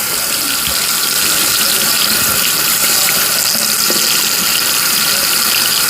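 Water pours steadily from a shower tap, a loud, continuous hiss and splash that stays close throughout with no talk.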